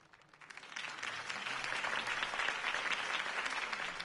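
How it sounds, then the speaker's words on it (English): A crowd bursts into sustained applause in the Batman Telltale Series video game, dense clapping swelling quickly and holding steady at a loud, even level. "could have heard that applause"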